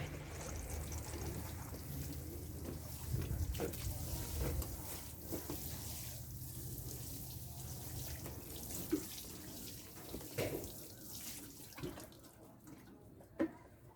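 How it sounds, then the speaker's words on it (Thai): Water poured steadily over layered compost made with fermented bio-extract and molasses, a continuous splashing trickle with a few sharper knocks, close by, with no talking. "แล้วก็รานน้ำกันไป"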